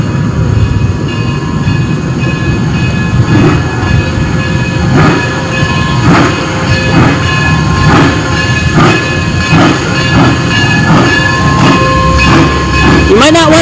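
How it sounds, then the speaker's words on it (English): A Cumbres and Toltec train departs at close range, a loud steady rumble of rolling wheels and cars with rhythmic clickety-clack pulses and a brief squeal near the end. "Careful of the train. Because it's departing."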